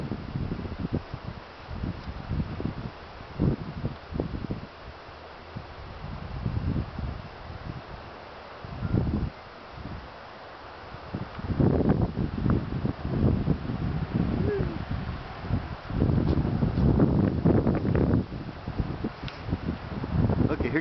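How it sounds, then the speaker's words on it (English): Gusts of wind rush across an outdoor site with small Chinese wind turbines beside large solar panels, a rough, swelling roar that builds and fades in waves, louder toward the end, with no clear talk. "Okay, here comes some wind."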